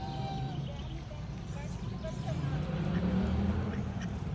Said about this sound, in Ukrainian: Та гусочки до нас пливуть